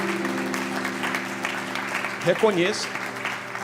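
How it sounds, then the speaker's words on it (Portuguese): A church congregation applauds, a broad wash of clapping over sustained musical tones, and someone speaks briefly near the end. "Aplaude seu filho."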